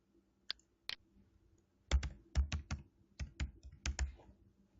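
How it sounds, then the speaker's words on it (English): A password typed on a computer keyboard: a couple of sharp clicks, then a close burst of about a dozen quick, uneven key presses in a quiet room. "Let's go ahead and put our password in for the first time here."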